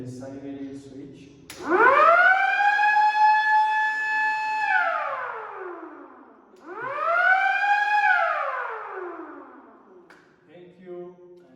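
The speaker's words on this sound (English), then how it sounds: "Then you come to the siren, is the siren switch." An electric siren switched on during a basic wiring demonstration winds up twice, each rising wail holding a loud, near tone before sliding down, with a short gap between the two cycles.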